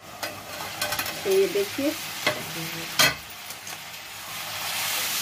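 Potatoes stir-frying on a high gas flame for aloo bhujia: a steady soft sizzle broken by sharp scraping and tossing strokes of a spatula, with a brief spoken phrase partway through.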